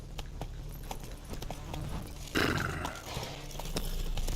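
Hooves of Roach, Geralt's horse in The Witcher 3, clip-clop at a walking pace in a steady close rhythm, with a louder rustling burst midway.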